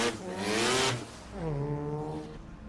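Autocross cars run a timed course at Daytona, one engine revving hard and sweeping past, then a second car climbing through its gears, heard at a moderate distance in open air.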